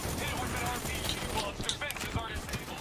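Sniper gunfire in the shooter game Call of Duty: Black Ops 3, heard as a dense, continuous run of sharp shots and crackling impacts that stays loud from start to finish, with voices faintly present underneath.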